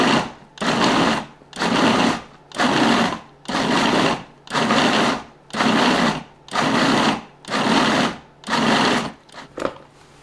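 A small electric chopper runs in nine or ten regular pulsed bursts, each about half a second to a second long with short gaps between, chopping oranges and other cranberry relish ingredients, then closes with a few quick short pulses.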